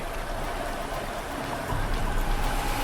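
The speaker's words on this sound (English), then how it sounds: "Quickly, though, the river picks up speed" A fast Alaskan river rushes through canyons of immense boulders in a dense, constant roar of churning water, loud and close, with no other sounds.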